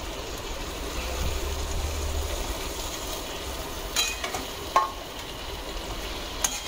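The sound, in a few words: stuffed brinjals being stir-fried in a pan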